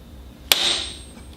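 A single sharp metallic strike of a hammer on a Porsche 996 alternator rings out once, followed by a bright ringing tone that fades over about a second.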